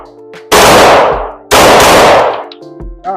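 Two loud, close firearm shots fired at a target, about a second apart, each with a sharp crack and a long ringing decay, with faint handling sounds between.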